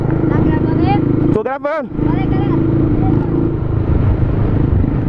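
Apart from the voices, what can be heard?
motorcycle riding with straight-pipe exhaust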